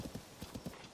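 Horse hooves galloping in Zelda: Tears of the Kingdom, a quick steady rhythm of soft thuds repeating about every tenth of a second, close and moderately loud with no voices.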